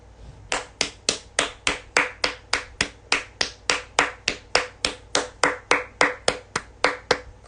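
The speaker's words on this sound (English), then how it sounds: "I just had to give myself a round of applause" A single person claps alone in a steady, evenly spaced rhythm, about twenty sharp, close hand claps in a row with short gaps between them.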